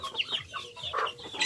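Chickens clucking close by in a continuous, busy stream of short squawky calls, with some rooster-like notes mixed in at a farmyard, no one talking.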